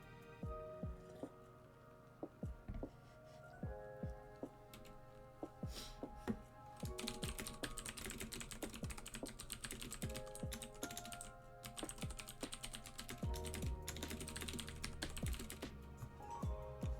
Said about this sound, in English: Let's get you all one more dose of clicky clacks.